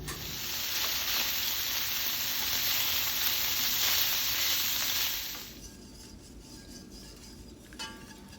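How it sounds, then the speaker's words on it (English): Meat browns for gumbo in a pan, giving a loud, steady, close sizzle for about five seconds. The sizzle then drops to a quiet hiss, broken by a faint clink. "So I'm just going to brown these in my pan here"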